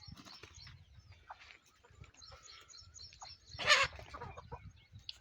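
Free-range village chickens, five-month-old country birds, clucking softly in an open yard, scattered calls with a brief louder squawk or flutter near the middle, distant and faint overall.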